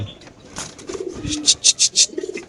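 Pigeons at a pigeon sale give a run of rhythmic, pulsing coos, near and fairly loud, with faint background murmur and shuffling around them.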